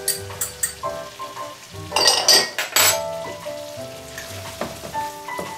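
Sweet peppers hit a hot pan with garlic and nutmeg, setting off a loud sizzle and frying hiss. Utensils clink and scrape against the pan throughout, and a busy burst of spattering comes partway through.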